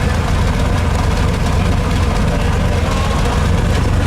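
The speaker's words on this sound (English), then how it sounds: "Go ahead, give it a rev." A 1963 Chevrolet Corvette convertible with a fuel-injected engine and four-speed runs loud and close, a steady heavy low rumble that holds even throughout without clear rises in pitch.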